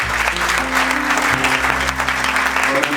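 Audience applause at a church music program, a continuous close wash of clapping layered over sustained low musical tones throughout.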